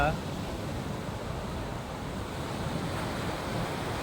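Sea waves breaking on a shore make a constant, close surf wash with wind noise running through it, steady and unbroken for the whole stretch.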